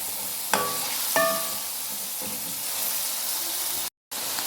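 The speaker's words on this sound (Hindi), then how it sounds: "और मज़ीद 2 से 3 मिनट तक इसकी भुनाई करूँगी।" A potato and pea curry frying in a pan, with a constant hiss of sizzling and a few sharp clinks of a spoon being stirred through, and a brief dropout near the end.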